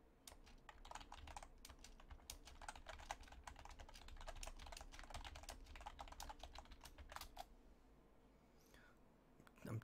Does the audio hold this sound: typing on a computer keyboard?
yes